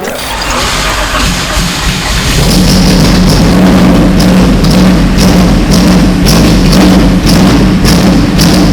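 A loud Honda Civic Wonder engine fitted with a VTEC killer idles roughly then rises into a harsh, throbbing rev with choppy, uneven pulses, close up and sustained.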